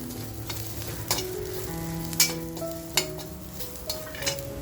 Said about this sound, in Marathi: गॅसची फ्लेम बंद करून खोबरं टाकते, कारण कढई आपली छान अशी तापलेली आहे